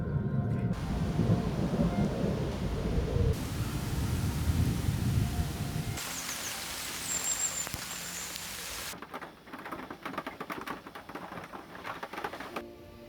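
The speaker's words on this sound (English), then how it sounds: "that same afternoon we had a quick downpour" Heavy thunder and a downpour of rain roar across a carp fishing lake, a dense, continuous wash of sound that shifts in character partway through and stays loud throughout, with no voices.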